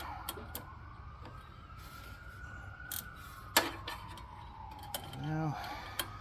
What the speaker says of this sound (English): Some sirens in the neighborhood.